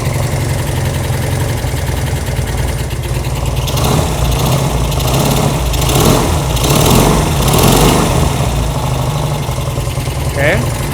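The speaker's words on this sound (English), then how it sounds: "Okay, that comes back to idle pretty good." A Honda CB200 motorcycle with an aftermarket carburetor idles steadily and close by after the carburetor is adjusted, a constant low putter that briefly swells a little louder partway through.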